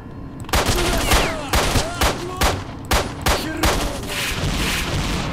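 Rapid repeated pistol shots in STALKER: Shadow of Chernobyl, about a dozen loud cracks in quick succession with short echoing tails, over a noisy firefight background.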